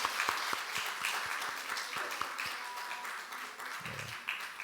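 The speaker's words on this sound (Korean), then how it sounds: "우리 박수로 축하하고 또 우리 환영하고 축복을 합니다" Sustained applause from a church congregation during a Sunday service at Daebong Church, dense steady clapping filling the room with a few sharper individual claps standing out.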